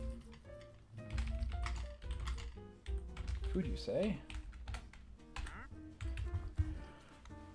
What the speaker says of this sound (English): I have a keyboard out just for this